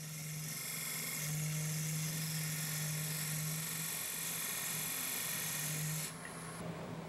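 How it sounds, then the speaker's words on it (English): A wood lathe spins steadily as a Bedan tool cuts a recess into a turned wooden lid, producing a constant motor hum and whine with a faint scraping cut, which drops off near the end. "form a recess with a Bedan tool so I can reverse chuck the lid."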